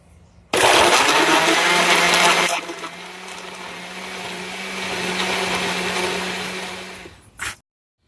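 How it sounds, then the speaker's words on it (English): An electric blender whirs loudly blending jalapeños with a little water into a paste, starting with a harsh high-speed roar that settles into a steadier, lower motor hum for several seconds before cutting off. "we're going to put in the blender"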